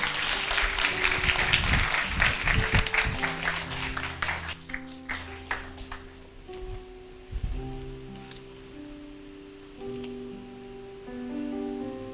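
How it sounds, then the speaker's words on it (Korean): Church congregation at a Saturday service clapping warmly for a young woman coming up to give her testimony; a full burst of applause that thins out midway, then scattered claps over soft sustained keyboard chords. "우리 선주 자매 나올 때 우리 큰 박수로 함께 격려해 주시면 감사하겠습니다."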